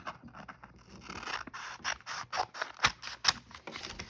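Scissors snip and rasp through folded paper to make a small booklet, in a series of crisp, irregular cuts that grow louder toward the end, close up with no talking.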